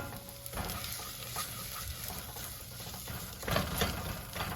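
Fresh chopped oregano and basil hit a hot pan coated with tomato paste, giving a steady close sizzle with light stirring scrapes and a brief louder crackle near the end.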